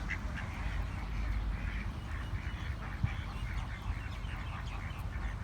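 Native domestic ducks quack in a steady flock chorus, repeated calls over a constant low rumble of background noise, with one brief sharp knock partway through.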